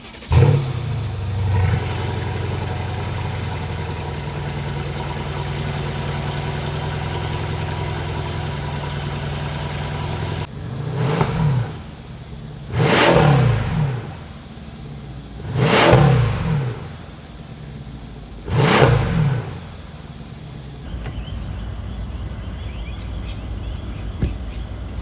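A Mercedes S63 AMG's 5.5 litre engine holds a low, steady idle, then swells through four separate revs that rise and fall in turn before settling back to a smooth hum.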